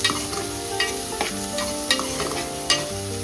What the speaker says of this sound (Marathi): आता बारीक चिरलेला कांदा घाला. तो हलका गोल्डन होईपर्यंत परता.